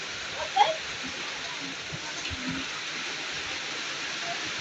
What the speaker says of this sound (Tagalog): Mas lakas ng ulan.